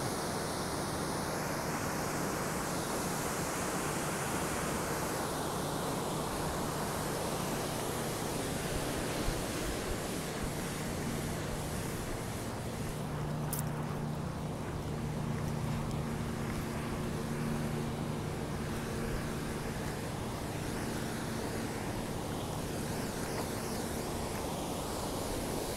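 Steady broadband rush of a river flowing beneath a bridge beside an old hydro power plant on the Appalachian Trail, a constant close wash with a low hum underneath and no talk.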